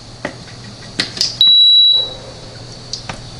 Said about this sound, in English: it makes a beep when you first plug in